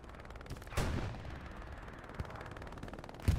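Gunfire and explosive impacts in the World War II shooter Hell Let Loose, with sharp shots near 0.8 and 3.3 seconds over a steady rumble of battle, including tank fire between a Panzer IV and an IS-1.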